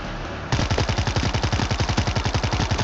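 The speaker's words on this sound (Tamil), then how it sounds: "நான் மிஷின் கன் யூஸ் பண்றேன்" Machine gun fire in the video game World War Z, a fast, loud, unbroken burst of closely spaced shots that starts abruptly and rattles on for over two seconds, no speech.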